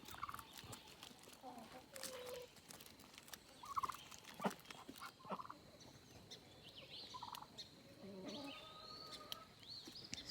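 Several turkeys gobble in short bursts on a farm where they are kept with chickens and ducks, a steady outdoor murmur beneath them and other fowl calling faintly in the background.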